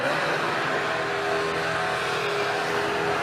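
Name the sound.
NASCAR race car doing a burnout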